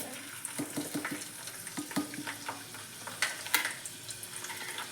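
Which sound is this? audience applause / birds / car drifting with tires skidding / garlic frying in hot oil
garlic frying in hot oil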